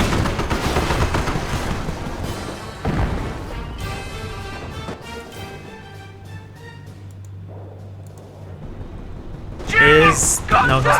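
Mortar and artillery fire in the Company of Heroes skirmish thump and crack repeatedly amid battle noise, with game voices shouting over them and a sharper blast near the end.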